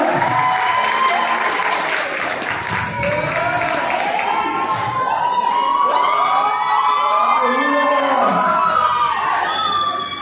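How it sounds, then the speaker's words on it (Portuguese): Church congregation at a youth camp testimony applauding the Lord: sustained clapping from the crowd with loud singing or shouting voices and music-like tones riding over it. "Aplauda o Senhor para nós"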